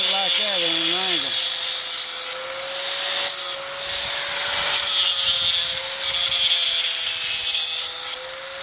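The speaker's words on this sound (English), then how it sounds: "you can grind with this thin disc" A grinder with a thin disc cutting cage wire for a rabbit cage whines at a steady pitch, with a gritty rasp that swells and eases in passes. A brief voice is heard at the start.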